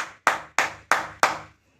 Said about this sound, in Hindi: कैमरामैन तनि खेसारी लाल यादव खातिर ताली मार दे तो